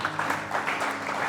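A church congregation applauds for Jesus, a dense, continuous burst of clapping that fills the short moment at moderate loudness.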